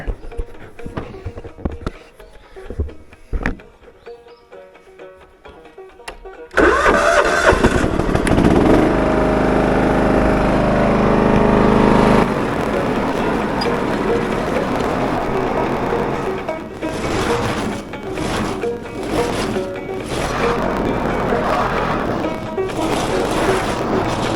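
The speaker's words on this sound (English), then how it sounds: "Go for a little ride on the big mower." A 48-inch riding lawn mower engine cranks with a few sputters, then catches and runs steadily at a loud, close, rough roar, its pitch wavering as the throttle shifts while the mower moves off to cut grass.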